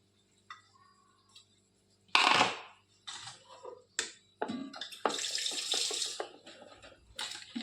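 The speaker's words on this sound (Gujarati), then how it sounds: "આ જે દાળ છે એ આપણે હવે થોડુંક પાણી એડ કરી દઈએ" Water is poured into cooked dal in a pot: several separate splashy pours and trickles, each starting abruptly, with small clinks and taps between them and no speech.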